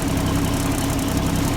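A 1949 Kenworth 825 truck with a Cummins diesel engine idles up close, a steady, rough low rumble with an even, unchanging pulse throughout.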